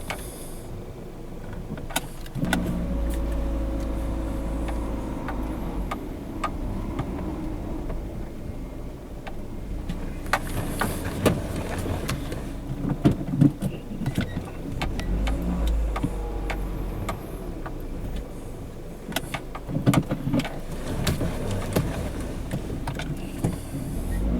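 A car engine idles and revs gently through a multi-point turn on a narrow rural road at Vallebrón, Fuerteventura, with a steady low rumble and occasional clicks and bumps from the car.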